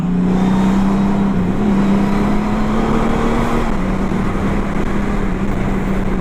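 A 2019 Honda Goldwing Tour DCT motorcycle cruising, its engine a loud, steady drone with a low hum that rises slightly in pitch, under continuous wind rush and no talk.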